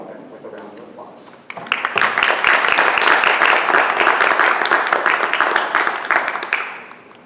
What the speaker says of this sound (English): Everyone, please give Bruce Meir a warm welcome with a round of applause.